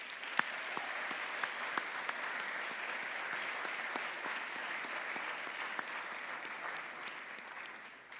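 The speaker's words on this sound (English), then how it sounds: "Can we give them just one more round of applause?" Steady applause from a sizable crowd at an honors convocation, dense clapping that holds evenly for several seconds before tapering slightly at the end.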